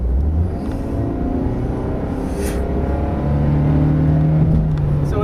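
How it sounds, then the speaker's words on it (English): A 2010 Honda Insight hybrid accelerating, its engine giving a loud, droning hum from inside the cabin that rises in pitch as the revs climb, steady and prominent throughout. "when you step on the gas, it makes a lot of noise"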